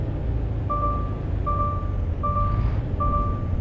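A truck in American Truck Simulator gives four evenly spaced reversing beeps, each one steady and clear over a constant low engine rumble.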